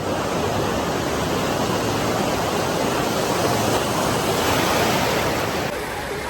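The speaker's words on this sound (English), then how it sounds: "Wait till you see these waves. Here it comes." A steady, roaring wash of surging water fills the whole stretch, loud and close, as a big wave breaks and churns through the wave pool at Disney's Typhoon Lagoon in Orlando, Florida.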